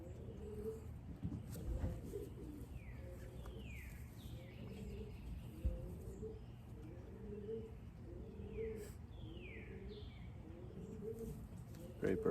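Racing pigeons coo in a loft, with repeated soft low rolling coos recurring steadily over a constant background hum, plus a few faint higher chirps.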